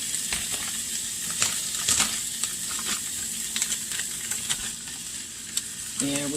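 Leftover pulled pork being stirred and mashed in a hot pan for tacos, a close sizzle with scraping and pressing sounds running steadily throughout, brief clinks near the end.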